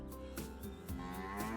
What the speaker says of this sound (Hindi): हाथ का बछड़ा रंभाने लगा